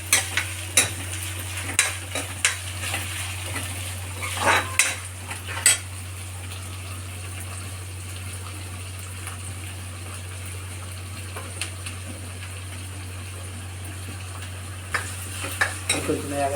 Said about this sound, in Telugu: ఎర్రగడ్డలు వేయాలి. మిరపకాయలు వేయాలి. పచ్చిమిరపకాయలు ఇదంతా ఇలా బాగా ఫ్రై మాదిరి చేసుకోవాలి.